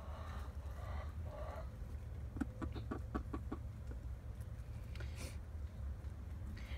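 A laying hen in a coop with other chickens gives a short run of soft, quick clucks in the middle, faint against a quiet morning background.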